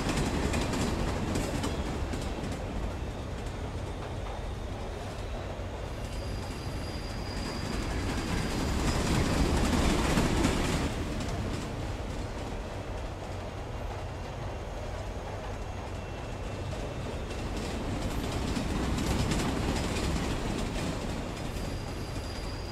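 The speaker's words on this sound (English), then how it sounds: "one long-ass train ride" A long video-game train ride: a steady rumble and clatter of wheels on rails, with faint high squeals and rising and falling surges in loudness, continuous throughout.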